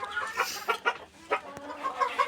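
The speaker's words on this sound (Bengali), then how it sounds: "এই যে আমাদের মুরগি ডিম নিয়ে বসেছে।" Hens clucking in a henhouse, several birds trading short, uneven calls at close range, with soft scratching and shuffling between the bursts.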